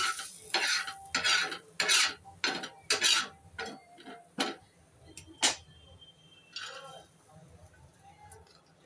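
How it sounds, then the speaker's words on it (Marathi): Grated fresh coconut is dry-roasted in a pan, with a series of distinct scraping spatula strokes in quick rhythm that thin out into quieter, sparser scrapes and a faint voice. "त्यामध्ये खोबरं थोडं भाजून घेऊया."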